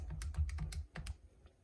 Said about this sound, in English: so let's type that in the calculator.